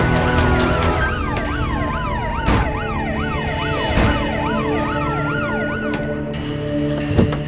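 A loud ambulance siren wails in a rapid rising-and-falling pattern over traffic noise, with a few sharp knocks along the way.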